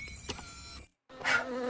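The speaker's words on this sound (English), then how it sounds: "it's a bee. That's a bee." A cartoon bee in a Minecraft Squid Game animation gives a steady, fairly close insect buzz. The buzz breaks off in a short silence, then comes back stronger and holds to the end.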